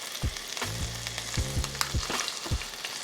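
Lobster meat fries in butter with Cajun seasoning in a skillet, a close, continuous sizzle broken by several sharp scraping and stirring knocks, with no one speaking.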